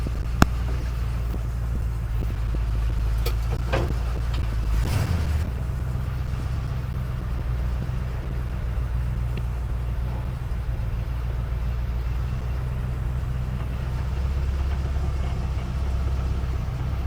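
A 1953 GMC truck engine runs steadily while driving, producing a continuous low rumble with a brief shift in tone partway through and a few faint clicks and knocks.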